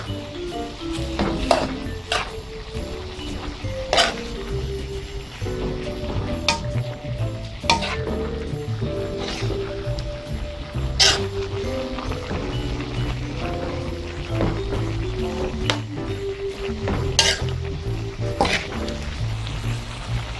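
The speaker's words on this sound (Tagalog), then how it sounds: "Hahaluin lang po natin to ng hahaluin." Pork tripe adobo with salted black beans gets stirred in a pan, the utensil scraping and clicking irregularly against the metal over a low sizzle, close and steady with no talking.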